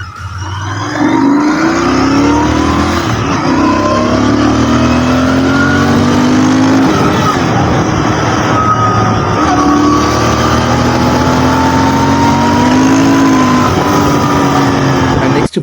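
A motorbike billed as a rival to the KTM Duke 390, with dual-channel ABS, pulls hard through rising gears on a road ride, its engine note climbing and shifting loudly and continuously with wind rush.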